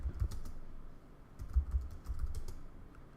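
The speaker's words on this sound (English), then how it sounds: "If I can type here." Close, quiet typing on a computer keyboard, with irregular bursts of soft key clicks over a few seconds.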